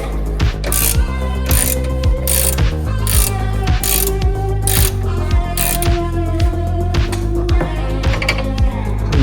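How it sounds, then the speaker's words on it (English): A hand ratchet wrench with an 18 mm socket tightens bolts on a Nissan Altima control arm, giving rapid, loud, close clicking pawl strokes in a repeating rhythm with no talk over them. "Ratchet wrench works best for that."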